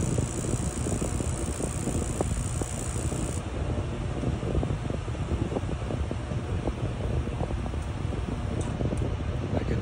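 A Mr. Heater Big Maxx MHU50 80,000 BTU propane heater runs with a fault that makes its flame cycle on and off. It gives a steady, close fan-like rushing roar that carries on unbroken, with no voices.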